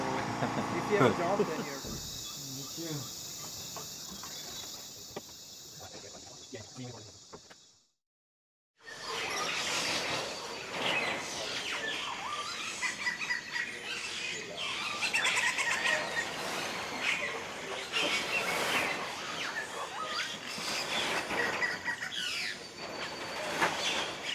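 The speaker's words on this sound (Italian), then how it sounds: "6 di mattina, gli uccelli si sono svegliati tutti" Birds sing at dawn in the Peruvian Amazon near Iquitos, a dense chorus of chirps and calls layered over insect buzzing, broken by a brief silence partway, with people talking at times.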